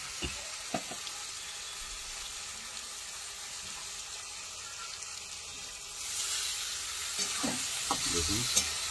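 Fish masala of Kashmiri chilli and green chilli paste with mustard powder sizzles softly in a pan with fried potato and onion, a low steady hiss with a few stirring scrapes growing louder toward the end.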